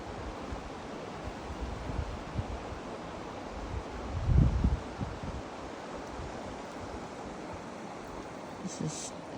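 Flowing creek water on a quiet stretch a little downstream, a steady, soft broadband rush with a brief swell of louder splashing near the middle and faint low rumble beneath.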